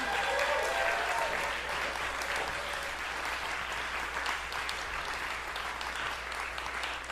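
A concert audience claps after a band's set at a Chicago music event, a steady, moderately loud round of applause that starts a little stronger and settles into an even, continuous patter with no one speaking.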